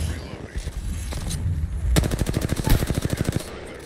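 Rapid automatic gunfire in the Apex Legends video game, a steady burst of close, loud shots in quick rhythm following a stretch of mixed game noise, with a voice speaking faintly in the background.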